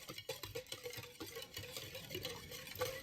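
Eggnog ice cream base of eggnog and half and half being whisked in a bowl, light rhythmic scraping and tapping strokes, quiet and close.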